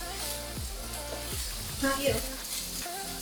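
Mushrooms sizzle and fry in a hot pan for a cheesesteak, a steady crackling hiss with a few scrapes and stirs, while a voice briefly speaks over it.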